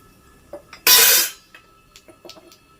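Nigella seeds (black cumin) dropped into fully heated oil give a sudden loud sizzle that lasts about half a second and then fades, followed by faint clinks of a utensil against the pan.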